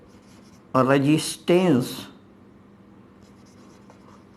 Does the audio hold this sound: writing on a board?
yes